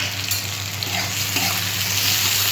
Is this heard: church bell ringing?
no